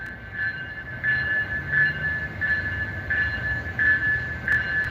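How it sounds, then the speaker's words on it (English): A train passes in the dark before dawn. Its low, steady rumble holds throughout, with a faint sustained high squeal from the wheels and no voices. "There's the train."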